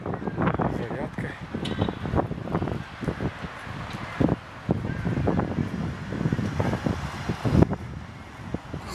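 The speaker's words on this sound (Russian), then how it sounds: "в комментариях будет шум ветра. Но это никуда не деться, это ветер создает шум" Outdoors on a new youth alley in Taraz, gusting wind buffets the microphone, producing a constant low rumble and bursts under someone talking throughout.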